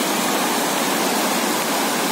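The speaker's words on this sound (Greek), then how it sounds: "αυτό το θερμό νερό αναβλύζει από το βουνό και αρχίζει και κυλάει μέσα σε αυτό το αυλάκι εδώ που βλέπουμε" Hot spring water welling from the mountain at Thermopylae rushes steadily down a narrow channel, a loud, constant close-up gush with no voices.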